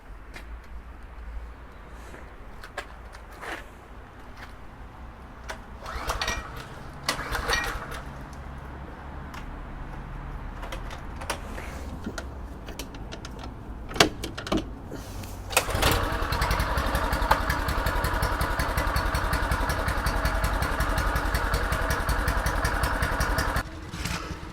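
An external starter turns over a Suzuki XR69 race motorcycle, first as a fluctuating whir with sputters and bursts, then the engine catches into a louder, continuous rough running roar for the final stretch.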